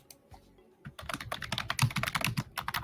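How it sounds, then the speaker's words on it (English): Rapid clattering keystrokes on a computer keyboard, starting after a quiet second and then continuing in dense, uneven bursts, close and clear. "Just letting you know that we can hear your typing."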